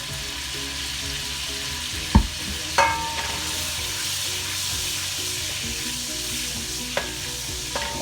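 Butter and extra virgin olive oil sizzling over high heat in a pan, a steady close sizzle with a few sharp utensil knocks and clinks, no talking.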